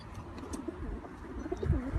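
Low, soft pigeon coos murmur through a faint background hum, a few gentle throaty calls close by.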